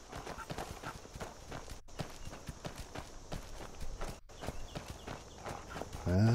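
Horse hooves clip-clop in a steady walking rhythm as a rider climbs a mountain path in the game Skyrim, close and continuous with brief gaps.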